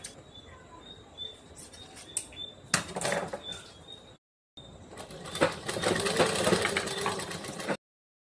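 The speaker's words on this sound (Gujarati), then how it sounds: "આ કાપવાની લેસ તમારે આ પ્રમાણે ગોઠવીને સિલાઈ મારી દેવાની છે" A sewing machine stitches cut lace into a jhumka flower, whirring in short close bursts, then a longer, louder run after a brief silent gap.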